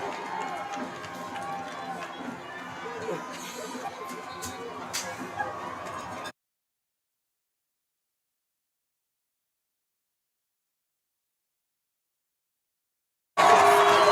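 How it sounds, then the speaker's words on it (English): A home crowd roars at a Friday-night homecoming high school football game as the Trojans' seniors take their final play. A dense, steady wash of cheering and chatter runs for about six seconds, cuts to silence, then returns loudly at the very end. "So now the crowd here gets loud as these Trojans take their last play as seniors playing on homecoming Friday night."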